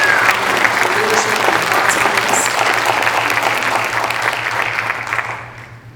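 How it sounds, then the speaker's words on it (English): An audience gives a panel a round of applause at a youth vaping summit in Bentonville: loud, dense clapping from a crowd, sustained for several seconds before tapering off at the end. "let's give this panel a round of applause"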